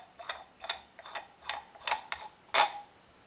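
A reducer being screwed onto 2.5-inch fire hose threads gives a quiet series of about eight short metallic clicks and scrapes in an uneven rhythm, close by with no talk.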